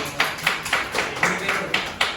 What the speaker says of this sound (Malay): Beri tepukan kepada kawan kamu.